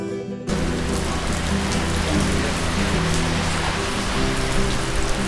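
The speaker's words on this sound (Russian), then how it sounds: "Под дождем." Steady, heavy rain falls continuously during a bicycle ride, a dense close hiss of drops that starts abruptly and carries on without pause.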